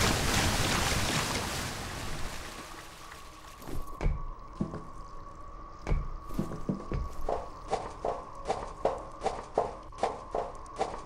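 Wading through water in the video game F.E.A.R. Extraction Point, a loud watery wash at first that fades, followed by a series of rhythmic sloshing steps growing regular toward the end.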